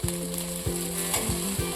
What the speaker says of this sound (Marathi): आता यामध्ये आपण घालूया हिरवे वाटाणे आणि वाटाणेही परतून घेऊया.